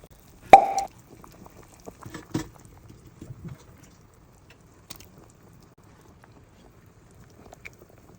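Patis (fish sauce) goes into a pot of boiling sinigang na isda with tamarind, giving one distinct close plop followed by faint scattered splashes and patter in a quiet room.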